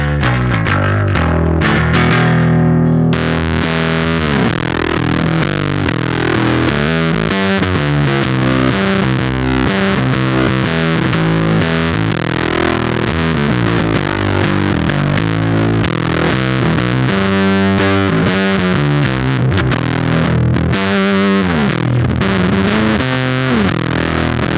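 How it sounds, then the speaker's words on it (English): Squier Classic Vibe P bass run through a Cat Box Customs Bean Machine fuzz pedal, a thick, distorted bass riff played continuously and loud at close range with no talking. "And now we have my Squier Classic Vibe P bass plugged into the Bean machine"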